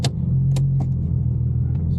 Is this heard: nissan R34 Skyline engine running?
yes